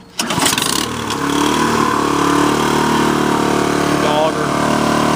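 A Toro Power Clear 518 ZE snowblower starts with a quick pull and roars into a loud, steady, close engine drone that holds for several seconds. Someone speaks over the running engine.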